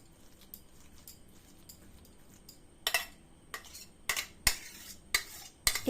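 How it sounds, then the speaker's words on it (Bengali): Chicken mince scooped into a large bowl with a spoon while momo filling is prepared, quiet at first, then a series of sharp metallic scrapes and clinks of spoon on bowl, close and without talk. "এই বাটির মধ্যে প্রথমে আমি এই চিকেন কিমাটা ঢেলে নিচ্ছি একটা চামচের"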